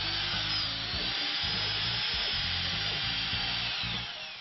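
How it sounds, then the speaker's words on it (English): A power drill whines steadily at close range, its motor pitch wavering slightly as it bores guide holes through MDF board, then easing off at the end. "we mark the edge so we know where to drill the guide holes"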